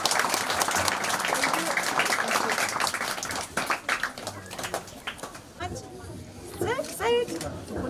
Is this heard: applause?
yes